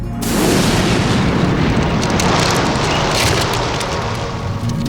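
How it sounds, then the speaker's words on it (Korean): Hallasan's volcanic eruption thunders as a loud, continuous deep roar with a rumbling, explosive texture, sustained and unbroken for several seconds with no voices. "한라산 화산 폭발"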